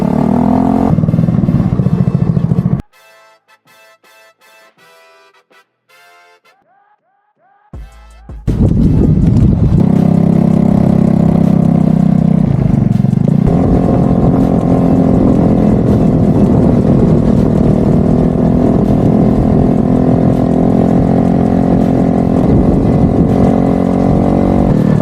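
A Honda Ruckus scooter's small engine drones loudly while being ridden. It cuts to near silence for several seconds, then resumes as a sustained buzzing hum to the end.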